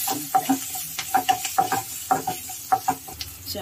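Green and dried chillies with asafoetida frying in hot oil, a constant sizzle broken by a run of quick, uneven stirring clicks and scrapes against the pan; no one speaks.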